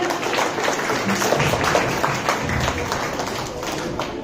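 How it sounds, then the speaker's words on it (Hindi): Applause from an audience at a Republic Day program, a steady wash of many hands clapping at moderate distance, continuous throughout with some crowd murmur mixed in. "जोरदार ताली बढ़ाइए"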